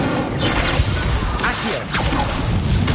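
A fire spell is cast in Hogwarts Legacy, bursting out in a loud, dense whoosh and crackling rush layered over steady game combat noise, with sharp impacts near the start and middle.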